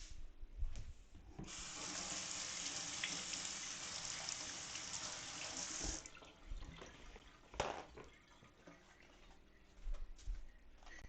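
Sweet potato washed under a running kitchen tap: about four and a half seconds of steady splashing water, then drips, knocks and handling noises at the sink.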